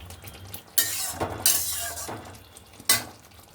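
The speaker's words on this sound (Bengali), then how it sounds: "এই জন্য এই মশলার মধ্যেই, কষানো মশলার মধ্যে তেজপাতাটাও দিয়ে দিচ্ছি। এই যেমন মশলা ভাজা হয়ে গেছে, তেল বেরিয়ে গেছে।" Spice masala with a bay leaf fries in oil until the oil separates, giving a low steady sizzle broken by three sharp scraping bursts from stirring with a utensil.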